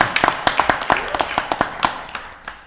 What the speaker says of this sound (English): applause for that.